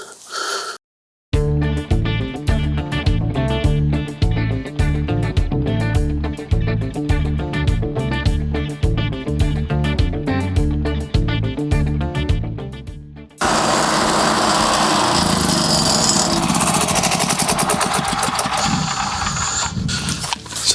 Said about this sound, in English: So right now I'm cutting 2 4x4s into